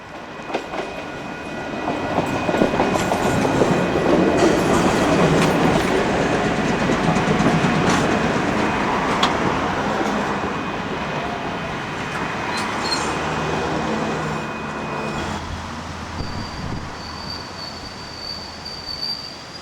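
An electric commuter train on the steep Johnsonville line, a motor coach with one trailer, rolls through a grassy station with a steady clickety-clack of wheels on rail, close and sustained, with insects chirping faintly behind.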